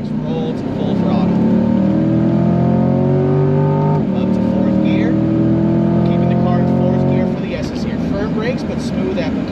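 A C8 Corvette accelerates at full throttle on a race track, its engine note climbing steadily through two rising sweeps while a driver talks over it in the cabin.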